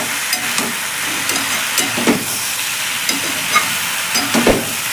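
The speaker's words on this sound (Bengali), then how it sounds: "হলুদ দেওয়ার পর আর একটু নেড়ে চেড়ে দেবো।" Vegetables with salt and turmeric stirred in a frying pan, a steady loud sizzle with occasional soft scrapes of the spoon.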